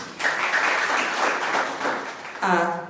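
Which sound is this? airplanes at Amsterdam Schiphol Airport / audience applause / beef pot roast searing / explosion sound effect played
audience applause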